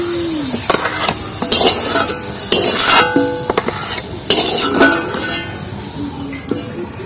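Metal utensil scraping and clinking against a pan while spiced potatoes are scooped out, with repeated irregular scrapes and light clinks close by, accompanied by a faint sizzle.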